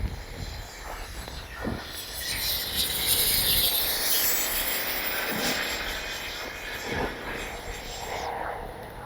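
A Freewing 80mm MiG-21 RC jet with an afterburner roars past outdoors on a windy day, its broad hiss swelling and fading for several seconds, with wind buffeting the microphone.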